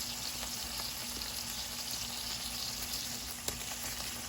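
Chuck steak sizzles steadily in a frying pan, a continuous close crackling hiss with a few small pops and no voices.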